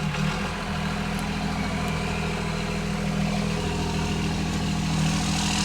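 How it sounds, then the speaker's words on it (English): A pickup truck with exhaust stacks on both sides idles after a cold start, holding a steady, even low rumble with no voices over it. "So I'm going to start it up really quick so you guys can hear it."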